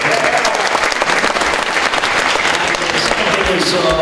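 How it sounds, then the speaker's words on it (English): A conference audience in Toronto claps in a big round of applause, a thick continuous wash of hands at full level from start to finish, with crowd noise mixed in. "A big round of applause to you guys."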